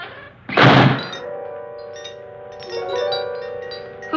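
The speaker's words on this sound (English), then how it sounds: "Who closed the door?" A heavy solid-steel door in an old haunted house slams shut with one loud, close thud, followed by a lingering metallic ringing hum that slowly fades.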